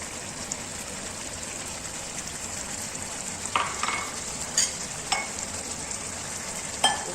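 Beaten yogurt is poured into chicken sizzling in a pot for achar gosht, giving a steady loud frying hiss with a few sharp spatters and crackles.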